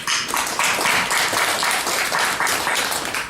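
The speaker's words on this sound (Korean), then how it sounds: "박수." Audience applause at a church officers' seminar, a steady wash of clapping from a congregation lasting a few seconds, fairly loud and continuous without voices.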